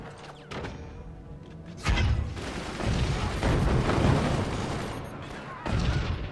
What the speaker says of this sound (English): Now these mortars are just going to be constantly shot out of the sky by the gunners